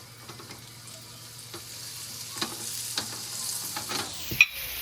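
Food searing in light oil and butter, a soft steady frying hiss with small crackles and occasional stirring knocks, fairly quiet, no voices.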